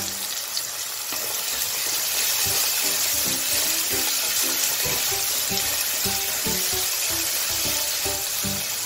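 Vegetables sizzling steadily in a pan with salt for paneer fried rice, a continuous loud hiss with faint clinks of stirring throughout, no voices.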